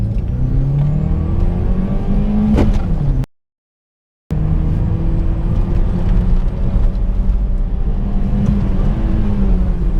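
Opel Astra H GTC coupe with a 1.6 LPG engine accelerating in first gear uphill, a loud, close engine drone rising in pitch from inside the car, briefly cut to silence before pulling on steadily.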